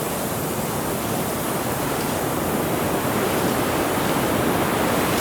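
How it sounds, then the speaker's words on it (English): Wind blows steadily across an open camp during an archery elk hunt, a constant broadband roar with no gusting breaks, buffeting the microphone throughout. "Supposed to be windy all day."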